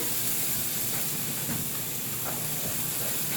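Bacon strips sizzle steadily in a pan, a broad, even hiss with faint crackles and pops, continuous and moderately quiet with no voices.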